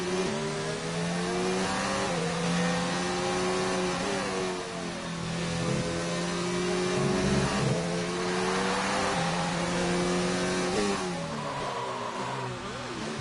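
Race cars on track in a Grand Prix video game at Hungary: steady, loud engine whine from several cars with rising and falling pitch as they accelerate and shift, running throughout without pause.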